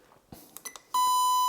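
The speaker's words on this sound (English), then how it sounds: "just put the beeping on so everyone can hear" A continuity tester lets out a single sustained, loud electronic tone during electrical testing, preceded by a few faint clicks and handling noises.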